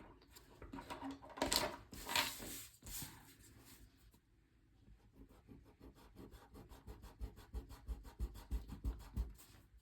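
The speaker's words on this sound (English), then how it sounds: "which is my favourite just go-to eraser for erasing anything like outlines and that kind of thing" Faber-Castell Perfection 7058 eraser rubbed on paper with scratchy strokes, first a few heavy scrubbing bursts, then a rapid, steady run of short rubbing strokes, close and alone.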